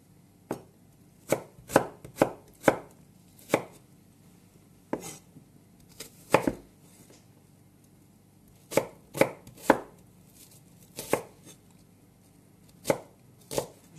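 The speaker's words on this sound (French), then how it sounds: "Je vais couper mes oignons." A knife chopping onions on a board, sharp irregular knocks in short bursts separated by pauses, fairly close and clear against a quiet background.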